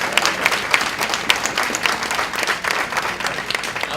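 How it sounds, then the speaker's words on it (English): An audience claps for Pastor Guilford T. Monrose as he is called up to receive an award, a dense, steady round of applause with sharp individual claps standing out, loud and close throughout. "Give the pastor a round of applause."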